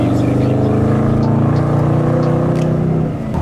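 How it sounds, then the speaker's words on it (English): A Dodge Scat Pack accelerates hard while burning rubber, its loud, steady engine roar droning close up for the whole stretch and easing off slightly at the end. "As he burns rubber, first time driving a Scat Pack ever."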